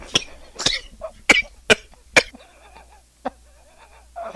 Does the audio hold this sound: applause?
no